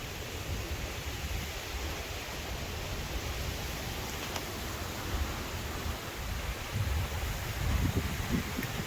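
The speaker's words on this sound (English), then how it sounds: "you can hear that wind, folks." Strong wind blows during a May windstorm as a broad, steady roar with buffeting gusts growing heavier toward the end.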